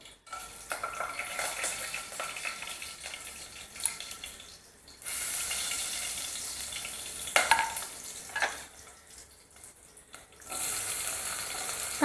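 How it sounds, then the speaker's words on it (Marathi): A bay leaf and whole spices dropped into hot oil for chana dal pulao, giving a steady hiss and sizzle that swells loudly in two bursts, with occasional clinks of a spoon against the pan. "तेल गरम झालेलं आहे पहिल्यांदा आपण तमालपत्र घालायचं त्याच्यानंतर आपण जो खडा मसाला घेतला आहे तो घालूया"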